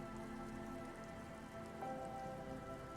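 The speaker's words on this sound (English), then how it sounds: "The reeds by the abandoned campsite hiss and shake in the lazily falling rain." Steady rain falls on reeds beside an abandoned campsite in a video game, a soft continuous hiss with faint rustling, even and unbroken throughout with no voices.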